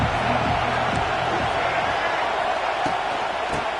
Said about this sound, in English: Here comes the noise from this big crowd at Happy Valley on third down.